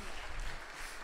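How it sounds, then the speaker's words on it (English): An audience at a church vacation Bible school event applauds in a brief burst of dense, moderately distant clapping. "Give him a round of applause for that cry."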